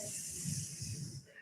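A cooking pot of gravy simmering in a kitchen gives off a steady, close sizzling hiss that fades slightly near the end.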